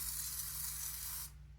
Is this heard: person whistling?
no